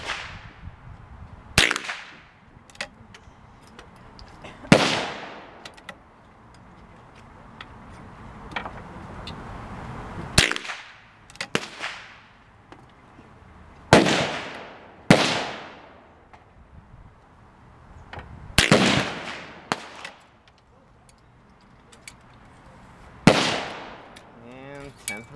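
Winchester M1885 Low Wall rifle firing in single shots, six sharp loud reports spaced several seconds apart, each with a ringing outdoor echo, between quieter handling noise.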